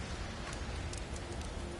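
Storm rain in the video game God of War Ragnarok, in Alfheim: a dense, steady rush of falling rain with no gaps, filling the scene evenly from start to finish.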